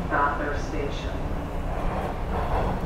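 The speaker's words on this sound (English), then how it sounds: "this is not the new this is what this is the old train" An old TTC Toronto subway train runs westbound, a steady close rumble of wheels and car noise with a person talking over it.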